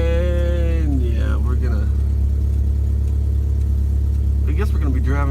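A car engine runs loud and steady throughout with a constant low hum, the revs rising and falling in swells, heard just before a test drive to town after a spark plug change.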